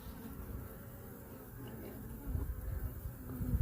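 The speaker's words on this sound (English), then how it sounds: "A lot of bees right here." Honey bees swarm and buzz around an open hive during queen release work, a dense steady drone close by that swells louder toward the end, with no talk over it.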